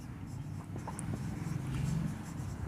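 A math example being written out by hand during a metric-space lesson: soft, continuous scratching strokes of a pen or chalk, faint and close, with a low background hum.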